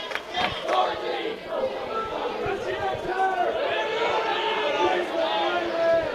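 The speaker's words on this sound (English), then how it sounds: "We have a very loud and impressive crowd here tonight here at Nellis Hall." Loud, dense crowd noise fills an indoor gym at a college volleyball match between CCC and Johnson County at Nellis Hall, a steady roar of fans with shouts and chatter throughout.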